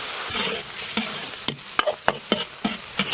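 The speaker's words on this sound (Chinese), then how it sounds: "猪肉炒一会儿，下入青红蓝色洋芋馍馍， 少来一点开水" Pork and grated potato dumplings stir-fried in a wok, Shaanbei style: a steady sizzle with repeated sharp spatula scrapes and knocks against the pan, close and fairly loud, with no talking.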